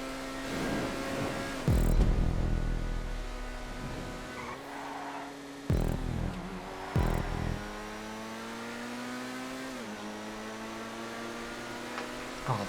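A Grotti Itali GTB supercar in a GTA 5 race revs hard, its engine note climbing steadily through the gears with abrupt drops at each shift, loud and continuous without talk.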